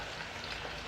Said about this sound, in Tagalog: Piprituhin muna siya.